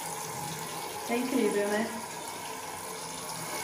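A bathroom sink tap set into a stone countertop runs steadily in a small powder room. A voice briefly speaks over the water's even rush.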